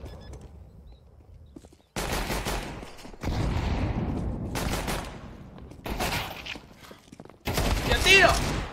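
Bursts of gunfire from a Counter-Strike esports match between FaZe and Spirit at IEM Katowice 2024, loud clustered shots in several separate volleys with a short quieter lead-in, and a voice audible underneath.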